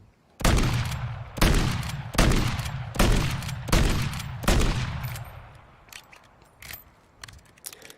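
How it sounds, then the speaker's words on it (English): Six loud, evenly spaced shots from the Lockwood MK2 rifle in Modern Warfare 3, fired from the hip about one per second, followed by a fading reverberant tail and faint mechanical clicks. "Not touching the right stick, I'm just going to fire all 6 rounds."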